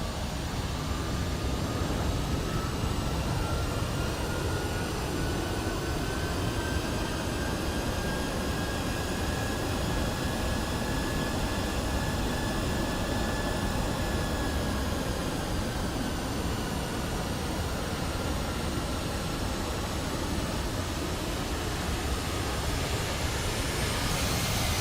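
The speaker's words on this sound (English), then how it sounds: "I wish I would have noticed that plane was taking off." A Hawaiian Airlines MD-11 airliner taking off, a loud sustained jet engine roar with a slowly rising whine that stays broad and steady the whole time, heard alone without voices.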